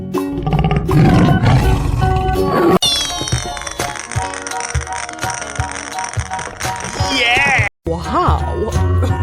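A tiger roar sound effect from a toy animal slide game, loud and drawn out over cheerful music and jingling effects, with a voice speaking over part of it.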